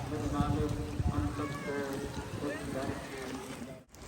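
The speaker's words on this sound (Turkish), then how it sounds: "Kediye bakın, kediye bakın." A cat meows a few times amid people talking close by, its rising cries partly masked by the voices.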